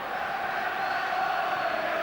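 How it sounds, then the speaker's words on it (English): Football fans in a packed stadium at a Hampden cup final between Dundee United and St Mirren sing and cheer, a steady distant roar of massed voices. "listen to the singing and cheering around the stadium from both sets of fans"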